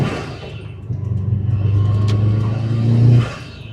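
A heavily modified Subaru WRX with manual clutch pulls away, its engine rumbling low then rising in a steady acceleration that swells louder before cutting off near the end, heard from inside the car.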